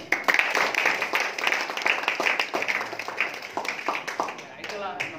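Audience at a distributor training session claps in a short burst of applause, dense rapid clapping that tapers off, with a voice speaking over it.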